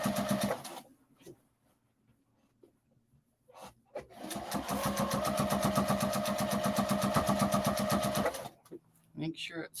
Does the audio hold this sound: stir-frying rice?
no